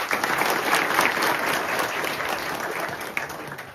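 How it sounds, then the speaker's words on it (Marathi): Audience applause at a talk on sacred groves, a dense, even wash of many hands clapping together, loud and sustained throughout with no speech over it. "तुमच्या सगळ्यांसाठी एकदम माझ्याकडून टाळ्या होऊन जाऊ दे"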